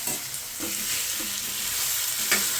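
Bitter gourd curry fries with turmeric and ginger-garlic paste in a pan, a steady close sizzle broken by a few soft scraping strokes of stirring.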